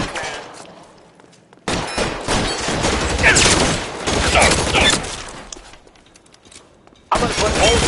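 Gunfire in L.A. Noire, a 1947 Los Angeles crime game on PS5: a loud shootout with sustained volleys of shots through most of the stretch, a brief lull, then a fresh burst at the end.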